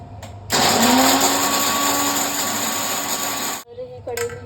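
A mixer grinder grinds coconut for a Gujarati undhiyu green masala, starting abruptly with a loud, steady whirring roar that holds for about three seconds and then cuts off, followed by a short, faint higher whine as it winds down.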